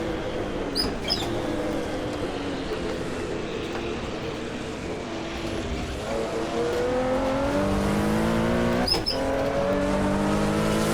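A Ford GT40 Mark 1 race car in a racing video game set at the 1970 Daytona 24 Hours, its engine droning steadily with rising and falling gear pitch, other cars passing briefly.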